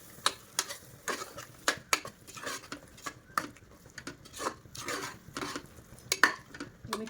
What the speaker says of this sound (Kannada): ಈಗ ಇದಕ್ಕೆ ನಾವು ರುಬ್ಬಿಟ್ಕೊಂಡಿರುವಂಥ ಪುದೀನ ಕೊತ್ತಂಬರಿ ಪೇಸ್ಟನ್ನು ಹಾಕೊಳ್ಳೋಣ. ಹಾಕ್ಕೊಂಡು ಇದನ್ನು ಚೆನ್ನಾಗಿ ಮಿಕ್ಸ್ ಮಾಡಬೇಕು.